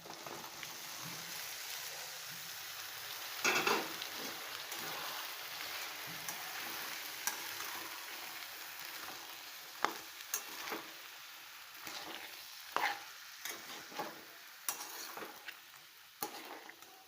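Garlic and curry leaves frying in a pan, a faint steady hiss of hot oil with scattered crackles and pops, a few sharper spatters standing out near the end; no voices.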